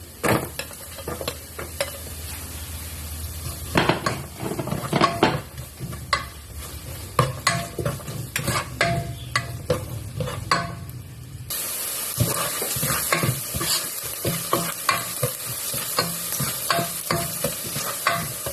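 Chopped onion sautéing in a hot pan with garlic for Filipino chicken afritada: a steady close sizzle with repeated stirring scrapes, and a louder burst of frying partway through as more goes in.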